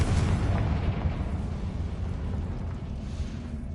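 A Confringo fire spell from Hogwarts Legacy bursts into a loud, rumbling explosion that hits at once and fades into a long, dense roar with no talking.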